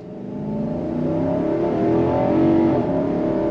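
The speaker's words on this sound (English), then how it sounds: "we're going to go on throttle from a dead stop" A 2023 Infiniti QX80 luxury SUV pulls away hard from a dead stop, its engine note rising steadily and loudly in a smooth, sustained drone as it builds speed.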